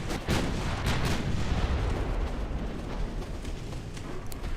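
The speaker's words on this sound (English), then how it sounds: "it looks like we're about to take a torpedo. Yep, there it is. Took a second torpedo." A torpedo slams into a warship in the naval game Ultimate Admiral Dreadnoughts, a loud, sustained, booming blast with a rumbling roar that carries on for several seconds without talk.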